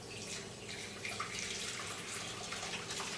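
Vegetable broth is poured through a strainer in a steady, splashing liquid rush, close and continuous for a few seconds with no talk.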